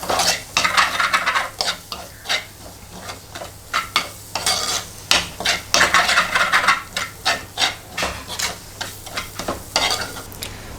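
A spoon stirs chicken with a quarter spoon of turmeric powder in a sizzling pan, making a steady run of close, loud scraping strokes in an irregular rhythm over continuous frying crackle.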